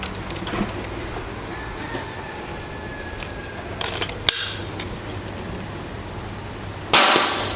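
An FX UX PCP air rifle firing a pellet during a shooting test: a sharp, brief crack midway, then a louder burst near the end over a steady outdoor background hum, with no speech.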